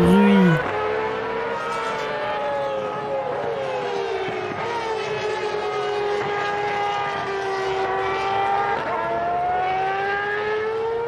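Race car engines at the GP Explorer event, a continuous loud whine with rising and falling pitch sweeps as cars pass and shift, voices faintly mixed in.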